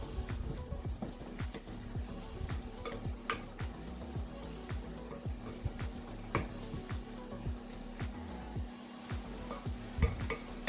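Seasoned peas with garlic frying in a pan for shepherd's pie, a continuous close sizzle with repeated spoon scrapes and stirring strokes at an even rhythm.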